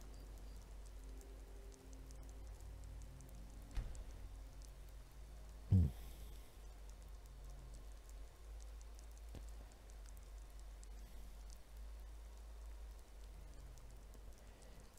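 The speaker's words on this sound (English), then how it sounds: "Oh, and of course it's raining." Steady rain falls in the Skyrim video game at night, a continuous soft patter holding throughout, with one brief louder thump partway in.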